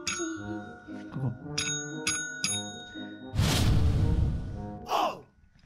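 Two small dogs, a Miniature Dachshund and a Pekingese-Chihuahua mix, strike a tap bell repeatedly, giving several bright, ringing dings in an uneven series, followed by loud breathy whooshing close to the microphone.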